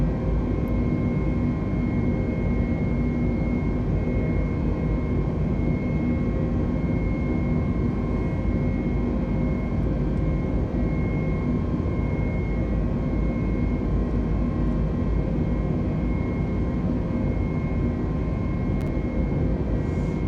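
Airbus A320 jet engines hold a loud, steady roar during the climb in Microsoft Flight Simulator, an unbroken drone with faint tonal whine that runs unchanged throughout.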